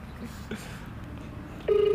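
A telephone ringback tone begins near the end as a steady electronic tone, with faint voices and room noise before it.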